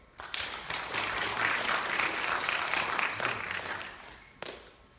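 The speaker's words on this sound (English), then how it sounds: "please give yourselves a round of applause real quick" Students at an honor society induction ceremony clap together in a steady round of applause that swells quickly, holds for a few seconds and fades out near the end.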